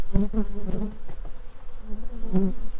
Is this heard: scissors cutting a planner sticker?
no